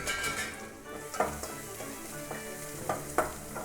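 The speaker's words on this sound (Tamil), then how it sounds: "இப்போ நறுக்கி வச்சுருக்கிற பெரிய வெங்காயத்தையும் நம்ம சேர்க்குறோம்." Chopped large onions fry and sizzle in hot oil for rava upma, a steady close sizzle broken by a few spoon stirs and clinks against the pan, with no talk.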